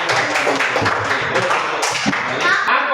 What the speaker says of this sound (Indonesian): Beri tepuk tangan untuk rekan-rekan.